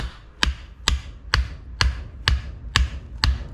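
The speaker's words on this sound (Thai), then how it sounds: "ผมก็จะตอกไม้ลงไปเลยครับ" A wooden stake is hammered into the soil while setting up a post, seven sharp, evenly spaced blows about half a second apart, close and clear with nothing else heard.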